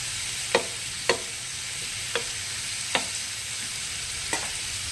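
Tomatoes frying in a pan under a soft continuous sizzle, punctuated by five sharp, evenly spaced stirring knocks of a spoon against the pan.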